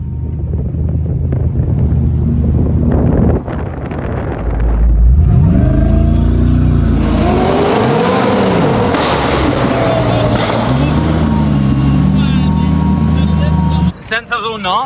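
Koenigsegg Jesko supercar driving, its engine rising and falling in pitch through throttle sweeps, loud and close under heavy wind buffeting, with a few voices over it.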